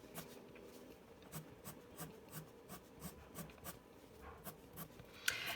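Colored pencil strokes flicked across paper, tapering at each end while drawing neon hair with marker and colored pencil: soft, close rasping scratches repeating in a quick, fairly steady rhythm, faint and alone.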